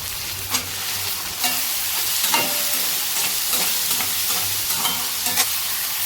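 Potato pieces go into a hot pan for a broccoli curry, followed by a steady loud sizzle and crackle of frying oil, with occasional stirring scrapes and pops throughout.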